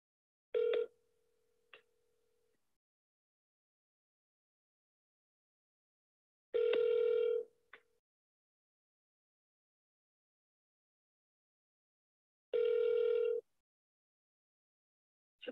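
An outgoing telephone call to a leasing office rings back: three long tone bursts about six seconds apart, each clear and moderately loud over silence, with faint short blips between them.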